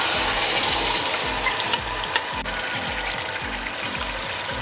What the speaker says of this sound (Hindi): अब मैं इस तेल को गरम करके इसमें जो है ये वाला मिक्सचर जो मैंने बनाया था ये इसमें डाल दूँगी